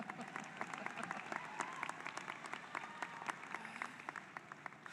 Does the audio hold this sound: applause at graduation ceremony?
yes